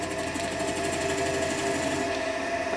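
An oak table lamp spins on a wood lathe as a point tool from an old carpentry chisel is fed into the centre, giving a steady, whirring mechanical drone with a rough, buzzing cutting edge throughout.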